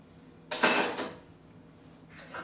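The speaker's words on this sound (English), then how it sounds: "gonna put this butter dish away real quickly so that it's not in my space" A butter dish put away in a home kitchen while making mac and cheese: a sharp clatter and rattling knock, then a softer second bump and a faint clink fading out.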